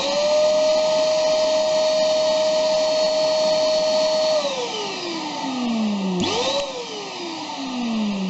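A small Lidl barrel vacuum cleaner runs close and loud with a steady high-pitched whine, then its pitch slides down and briefly dips before settling into a continuous drone.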